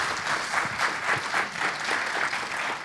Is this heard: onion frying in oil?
no